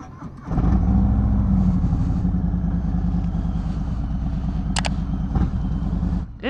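A motorcycle engine runs steadily and fairly loud on a cold February ride, a continuous low droning rumble that starts abruptly, holds even, and cuts off near the end, with wind noise and no talk.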